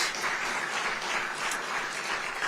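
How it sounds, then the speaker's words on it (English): An audience at a New Jersey governor's press event applauds, a dense, even patter of clapping from many people held steadily throughout. "Shamelessly fishing for applause here"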